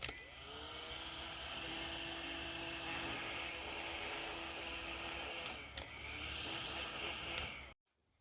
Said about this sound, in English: Now I will use heat gun to shrink the food wrap around the wooden core.